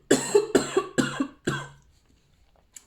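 A woman coughs repeatedly, four close, hard coughs in quick succession trailing into a rasp, followed by near silence.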